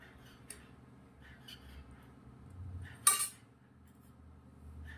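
Green chickpea curry is served onto a plate with a sharp metallic clink of a serving spoon against the dish, a brief bright clatter standing out over quiet kitchen background, with a few softer taps before it.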